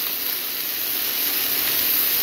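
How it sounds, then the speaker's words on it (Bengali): Rabbit meat sautéing in a pan in Kyrgyzstan, giving off a steady, close hiss of steam and sizzle with no voices over it. "এখন বন্ধুরা আমাদের খরগোশের মাংস কষানো হচ্ছে।"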